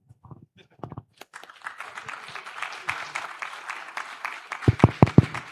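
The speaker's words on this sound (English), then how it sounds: "Please, another round of applause for that answer, please." Audience at a live-streamed energy discussion breaks into applause that swells from scattered claps into a fuller round, with a few sharp, close individual claps standing out near the end.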